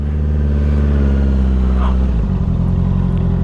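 A 2021 Honda CBR650R motorcycle engine revs steadily and loud, the pitch shifting as the throttle changes, with a brief human sound over the engine.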